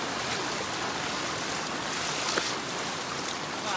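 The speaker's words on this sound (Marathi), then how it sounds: "इथे पाण्याचा झोत बघा केवढी आहे ती" Strong floodwater rushing through a Konkan stream, a dense, steady roar that stays loud and unbroken throughout, with no voices.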